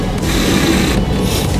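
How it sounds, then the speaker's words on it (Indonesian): A bolt is tightened on the hose of a welding wire feeder, giving a loud, continuous scraping rub with a gritty mechanical texture that lasts a moment and has no talk over it. "Lalu kencangkan kembali bautnya."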